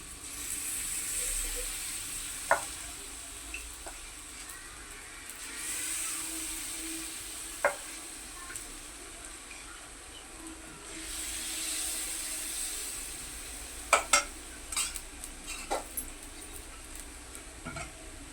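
Sweet bora batter frying in a little hot oil in a pan, a soft continuous hiss with a few sharp clicks and utensil taps scattered through, fairly quiet and close.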